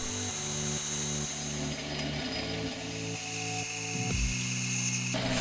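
A lathe turns the basic profile of a small metal clock part, with a steady motor hum carrying stepped tonal shifts and scraping cutting noise throughout, close and continuous without talk.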